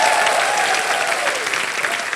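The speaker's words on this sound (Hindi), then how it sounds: "जोरदार तालियां।" Loud, sustained applause from a studio audience on the Hindi Wheel of Fortune game show, steady and dense throughout with no pauses.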